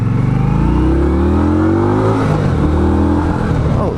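An Indian Scout motorcycle pulls hard on a test ride, its engine note rising steadily through a gear, dropping at a shift, then climbing again, loud and close with no talk.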